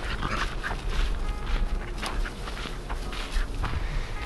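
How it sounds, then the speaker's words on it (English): Dog on a small-scale vegetable farm, moving about nearby with panting and soft whimpering sounds amid footsteps and outdoor rustle, steady and fairly close. "there goes the dog."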